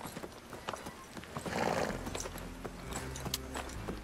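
A horse's hooves clip-clop in a steady walking rhythm in the Western game Desperado III, close and moderately loud, with a brief whinny partway through and faint ambient background.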